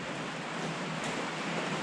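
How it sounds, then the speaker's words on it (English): Heavy rain pouring down outside a garage in Montana, a dense, steady hiss of downpour heard from indoors with no talking. "It is downpouring rain."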